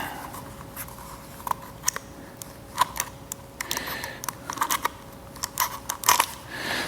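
Paint protection film on a Golf Blue Porsche GT3 RS is cut and trimmed with a blade, giving a series of sharp close clicks, snips and scraping ticks over a quiet background hum, no talk.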